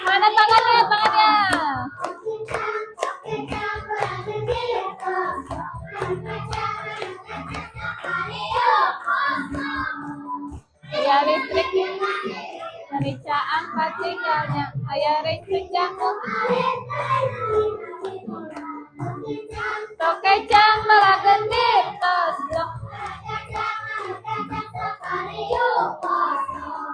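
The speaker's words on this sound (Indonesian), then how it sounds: "Tangannya tepuk-tepuk." A group of fourth-grade children in a classroom sing the Indonesian song Tokecang together and clap their hands along in a steady rhythm, the clapping mixed under the lively chorus of young voices.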